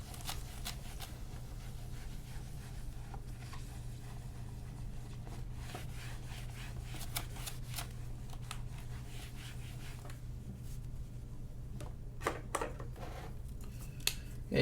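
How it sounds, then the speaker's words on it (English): A dry-erase board being wiped clean during a physics lesson, giving soft scratchy rubbing strokes over a steady low hum, with a few sharper squeaks near the end and no talk. "Let me erase this for a second."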